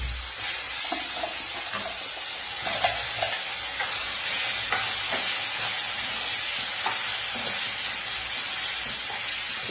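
A ground spice mixture fries in plenty of oil with curry-leaf tempering, giving a continuous loud sizzle with repeated stirring scrapes and no talking.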